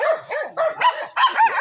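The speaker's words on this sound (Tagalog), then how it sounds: "Daming aso nyo." Several dogs bark in a quick run of sharp, loud, close barks in the Bicol region, with short gaps between bursts and no talk over them.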